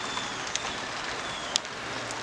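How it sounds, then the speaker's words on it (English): Steady rain falls outdoors beside an Oklahoma Joe Bronco smoker cooking a pot roast: a continuous, fairly even hiss with a couple of brief, sharper drips or taps standing out. "It's raining pretty good out here."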